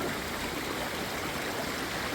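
A small stream trickles and flows between rocks in a natural outdoor spot, a steady, fairly close wash of water with no pauses and no voices.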